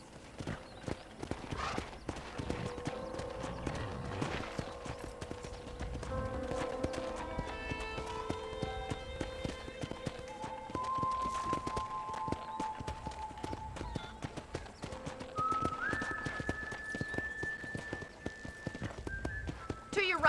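Steady clip-clopping of horse hooves on a ranch, moderately close, running under a tonal music bed throughout.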